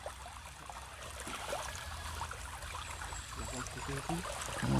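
A river stream flows steadily while clothes are washed in it, a soft gurgling trickle close by with light splashes and rustles that grow busier toward the end. No talk is heard.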